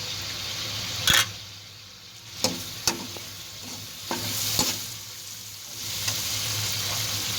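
Slit green chilies tossed into a hot pan of frying masala for an eggplant curry, a steady sizzle broken by several sharp clatters and scrapes of stirring, fairly close.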